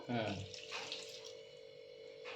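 Boiled water pours steadily while making crab fry, a continuous close splashing stream, as a voice briefly speaks at the start.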